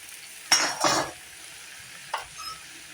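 Onions stirred in a hot frying pan, with a couple of brief scraping, sizzling bursts close by and quieter clinks in between.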